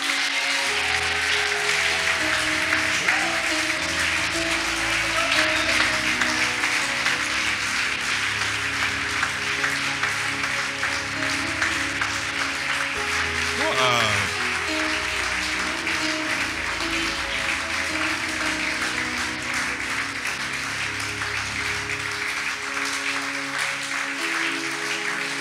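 A church congregation applauds in steady, dense clapping that fills the whole stretch, loud and continuous, with brief voices rising within it.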